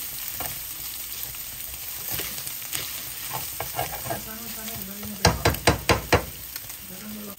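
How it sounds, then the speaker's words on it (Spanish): Peppers and onion sauté in a hot pan with a steady sizzle; stirring scrapes grow busier toward the end, finishing with a quick run of sharp utensil knocks against the pan. "Esperamos que se sofría un poquito el pimiento y la cebolla."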